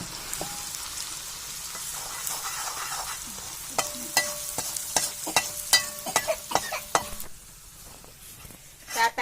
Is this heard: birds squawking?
no